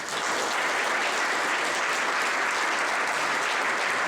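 A conference audience at a 2015 healthcare gathering in Baltimore, Maryland, applauds to welcome a speaker. The clapping is steady and dense throughout, with no one talking over it.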